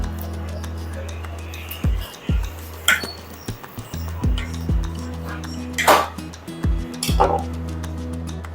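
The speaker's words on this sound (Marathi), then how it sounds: "तिथपासून सरळ सुरीने कापून ही देठं या कोथिंबीरीपासून वेगळी करायची" A kitchen knife cuts coriander stems away from a string-tied bunch of fresh coriander, giving several sharp, close cutting taps and clicks under ongoing speech.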